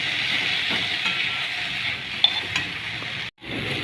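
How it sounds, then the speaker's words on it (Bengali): Ginger, garlic and green chili paste sautés in a pan with a steady hissing sizzle, a few faint clinks of stirring and a brief dropout near the end. "আদা রসুনটা ভালো করে কষিয়ে নেওয়া হচ্ছে।"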